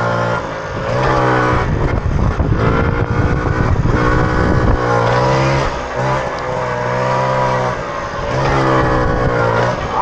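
Mobylette moped engine revving hard and continuously during a wheelie, a loud buzzing two-stroke note that wavers up and down with throttle changes, close by and without talk.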